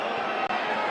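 A rugby league stadium crowd at Warrington versus Wigan fills the air with a dense, continuous roar of many voices, steady and loud with no single voice standing out.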